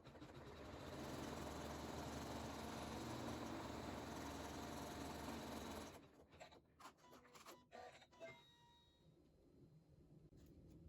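An embroidery machine stitches a placement stitch on napkin fabric with a steady, fast mechanical whir for about six seconds, then stops, leaving a few faint clicks and taps.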